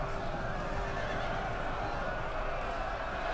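Cavalry horses neighing amid a battle in the Ancient Empires Total War mod, whinnies over a dense, continuous roar of fighting, hoofbeats and crowd noise, with no clear gaps.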